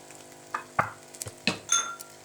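Sweet vermicelli cooked with khoya is stirred in a pan, giving a few separate scraping clatters over a low sizzle, close and fairly loud, with no voices.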